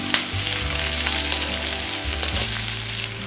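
Seven or eight garlic cloves sautéing in a pan for a Konkan-style cashew usal, a loud, close, steady frying hiss with a low hum underneath.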